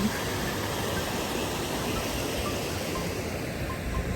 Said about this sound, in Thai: ตรงนี้ก็จะเป็น สายน้ำ เป็นลำน้ำเนาะ เป็นลำธาร